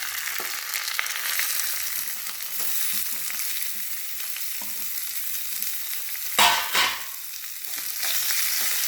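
Chopped shallots and curry leaves frying in oil, a steady loud sizzle that runs throughout, broken by a couple of brief stirring scrapes near the end.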